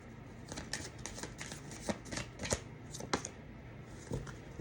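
Tarot cards are shuffled close by in a soft, steady run of riffling flicks and taps, quiet and without talk.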